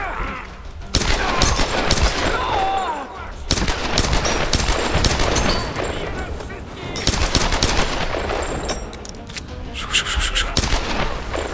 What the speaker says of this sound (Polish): Strzały